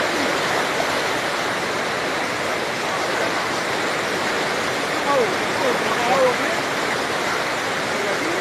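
Fast-flowing river water on the Langat river rushes in a continuous, close, loud roar of white noise that stays steady throughout.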